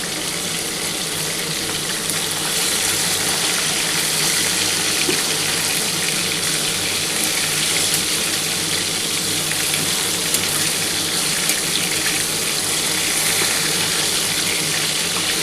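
Katla fish pieces fry in hot oil in a pan, a continuous dense sizzle and crackle heard up close with steady loudness throughout.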